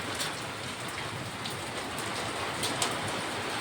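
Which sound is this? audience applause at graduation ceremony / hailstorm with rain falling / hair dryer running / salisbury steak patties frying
hailstorm with rain falling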